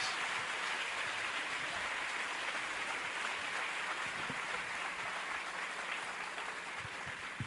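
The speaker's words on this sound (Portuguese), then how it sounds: "Vamos aplaudir ao Senhor pela vida do pastor Cláudio Duarte" Sustained applause from a church congregation for pastor Cláudio Duarte, a dense, even wash of clapping that holds steady and fairly loud throughout, with no voices rising above it.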